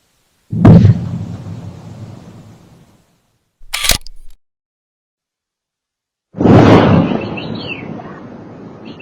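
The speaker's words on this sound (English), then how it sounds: "it is possible you heard a large explosion this morning" Deep, heavy booms roll across an area heard from a backyard in East Orlando, two big blasts with long fading rumbles and a sharp crack between them, loud and distant-sounding with quiet gaps.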